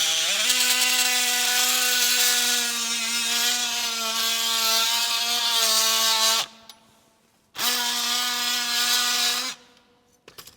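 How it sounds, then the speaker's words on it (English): An oscillating multi-tool buzzes with a strong, tonal whine as its blade scores a board along a concrete edge in a barn being framed into a house, running in two long bursts separated by a short pause. "what I'm gonna do is just take the multi-tool and I'm just gonna run it right along"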